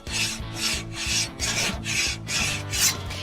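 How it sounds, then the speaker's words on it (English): Grates of a Memphis wood fire grill scraped with a Genie multi-tool: about seven steady, loud rasping back-and-forth strokes in an even rhythm, close up and without speech. "I just use a Genie multi-tool, or you can use a brush, and you wanna scrape down the grates"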